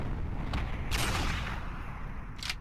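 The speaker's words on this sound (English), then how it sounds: "There you go, there's a shot from it right there. Pretty sick rifle." Rifle shots in the survival shooter Pantropy, sharp cracks at intervals over a constant low rumble of game ambience, the loudest blast near the start followed by a fainter one at the end.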